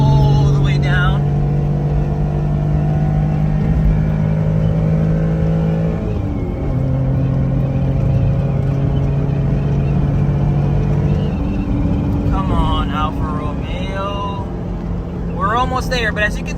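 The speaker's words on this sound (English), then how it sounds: "We're now gonna punch it, foot all the way down." A Honda Beat, a naturally aspirated kei car, accelerates at full throttle in 4th gear from about 80 km/h, its engine drone climbing steadily in pitch inside the cabin while someone talks over it.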